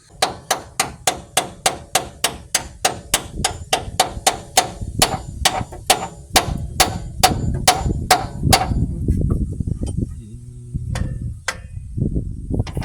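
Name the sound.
hammer hitting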